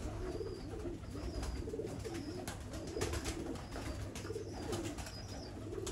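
A breeder's pigeon coos in soft, repeated low phrases, fairly close, over a steady low background hum with no talking.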